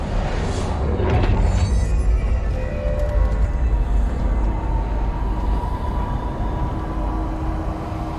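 A New York City subway train in the game Control, a loud, steady rumbling roar of rail cars with rattling and a few higher squeals, sustained close by from start to finish.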